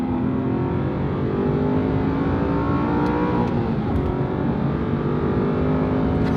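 An Aston Martin engine revs hard after a downshift on an open road, a loud, continuous, rising mechanical roar that holds steady throughout.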